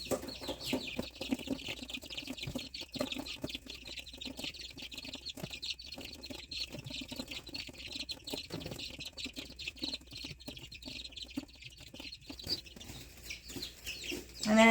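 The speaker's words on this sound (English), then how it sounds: "sorry the chicks are being a little loud" Young chicks chirp steadily in the background throughout, a busy, fairly loud peeping indoors while rabbit hide is being cut for tanning.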